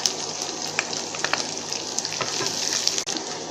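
Green chilli, chopped garlic and onion frying in oil with black cumin in a pan: a continuous hissing sizzle with scattered pops and crackles, fairly quiet and up close.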